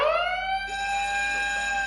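Emergency sirens from the 2016 film Arrival: a sustained, tonal alarm wail that holds steady and then shifts pitch partway, moderately quiet and heard alone without speech.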